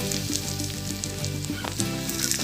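Thuthuvalai leaves and a small piece of tamarind sizzle and fry in a pan, a close, continuous crackling hiss with occasional stirring knocks.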